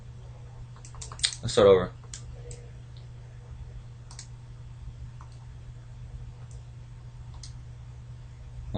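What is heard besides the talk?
pressing keys on a graphing calculator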